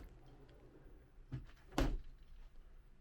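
A storage drawer on a Nordic Tug 37 boat is opened or closed, giving a faint soft bump followed by a sharper close thunk in a quiet space, with no talking.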